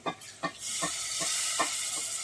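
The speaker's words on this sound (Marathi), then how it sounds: "हे थोडं उकडत होते, त्याचं पाणी टाकूया." Water poured into a pan of frying dry mutton on a wood-fired stove sets off a loud, steady sizzle that swells and holds after a few soft stirring clinks.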